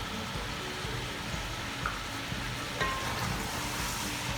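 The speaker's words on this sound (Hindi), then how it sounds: "अब फिर इसको भूनूँगी जब तक लहसुन बिल्कुल ख़त्म ना हो जाए" Garlic, ginger and garam masala fry in a karahi for chicken karahi, giving a steady, soft sizzle with faint crackles throughout and no voices.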